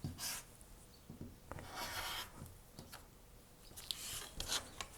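Rotary cutter blade rasping through quilt fabric along an acrylic ruler, several short scraping strokes trimming two sides of a block, close and fairly quiet with no talking.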